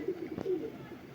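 A French pigeon on a rooftop in Lahore gives a short, soft, low coo close by, with faint background noise and no talk.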